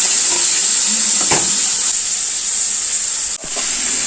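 Cooked banana stem stirred into a spice paste in a pan for a Kerala banana stem and cowpea thoran, with a steady steamy sizzle throughout and a couple of soft scraping touches, no talking.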